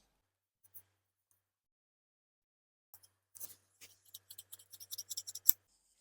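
Scissors cut fabric for a salwar belt in quiet, quick, crisp snips and scratches clustered in the second half after near silence.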